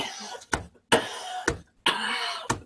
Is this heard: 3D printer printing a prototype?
no